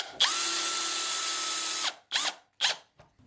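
A power drill bores into a wooden gate frame with a depth stop fitted, running steadily for nearly two seconds before two short, separate bursts follow. The whine is loud and close, with no talk.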